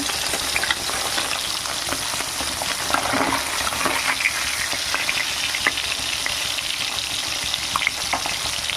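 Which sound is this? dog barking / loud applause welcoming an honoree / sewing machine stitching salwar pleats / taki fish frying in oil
taki fish frying in oil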